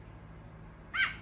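A pet bird at home gives one short, bright call near the end, rising out of a low indoor background hum.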